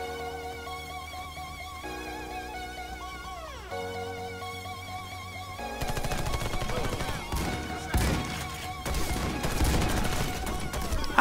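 Shotgun blasts and scattered gunfire in the online co-op shooter Warface, loud cracks breaking out over game music in the second half, with a voice speaking amid the firing.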